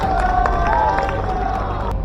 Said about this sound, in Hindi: उनके लिए भी जोरदार तालियों से स्वागत करिए